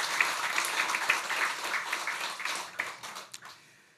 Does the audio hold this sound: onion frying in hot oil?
no